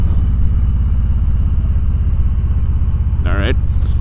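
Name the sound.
Harley-Davidson TriGlide Ultra 2020 trike engine while riding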